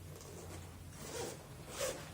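A zipper drawn along a handmade quilted notebook sleeve, heard as a quiet, close scratchy rasp in two short pulls over a low steady hum.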